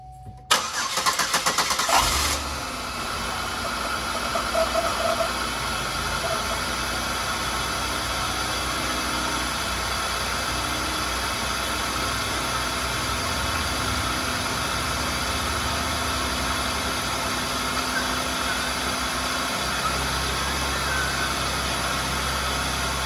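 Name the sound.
GM 3800 V6 engine starting and idling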